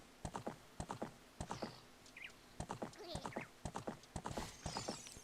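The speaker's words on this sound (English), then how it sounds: "Still funny that that's the horse sound." In Zelda: Ocarina of Time, a horse's hooves clip-clop in a quick, steady gallop with a brief whinny in the middle, quiet and clear with no talk over it.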